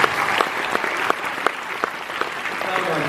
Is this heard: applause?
yes